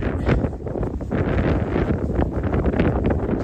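Gusty wind buffets a mountain trail in Montana as a gust front sweeps over the Continental Divide, a loud, continuous roar that rumbles against the microphone with no voices.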